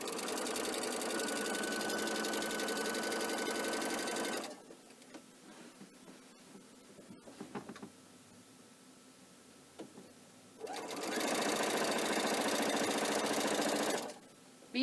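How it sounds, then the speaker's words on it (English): A sewing machine stitches down quilt binding in two steady runs of fast, even whirring, separated by a quiet pause with light handling clicks, then a final short burst. "And then I'm going to continue sewing down this side."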